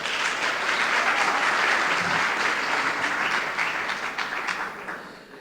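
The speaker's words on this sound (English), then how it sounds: "A round of applause for yourself for being here." A dense, steady round of applause from an audience at a memorial and book event honouring Baffour Osei Akoto, sustained and loud before gradually thinning and fading toward the end.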